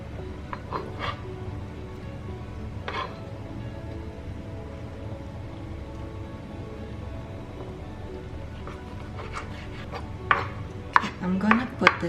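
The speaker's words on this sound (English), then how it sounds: "Now, I'm going to cut up the bacon first." Bacon being cut up on a board with a knife, a series of irregular chopping thuds scattered through the clip, sparse at first then clustering near the end, close and fairly loud against a low background hum.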